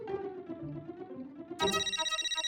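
A phone rings with a repeating electronic ringtone. A lower melodic tone plays first, then a brighter, louder pulsing ring takes over near the end. No one speaks.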